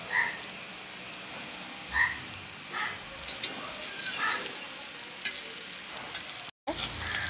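Small egg omelettes fry in a pan with a continuous sizzle, broken by irregular croaking pops and a brief dropout near the end.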